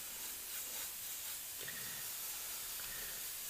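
An airbrush mists final black paint onto a furry animal artwork as a continuous, quiet hiss of spraying air, with a few faint tool clicks.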